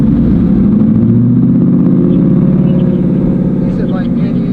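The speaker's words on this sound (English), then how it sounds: "So it is the engine under load, so whatever the engine here is, cruising down the road." A car engine held at 2000 rpm under load drones at a steady, constant speed, a loud even hum with a voice talking over it, during police exhaust noise testing.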